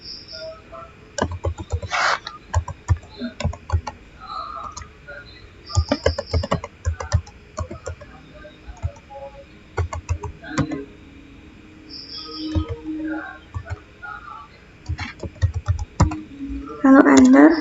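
Computer keyboard typing a Cisco configuration command, bursts of close clicky keystrokes in irregular runs with pauses, a voice speaking over parts of it.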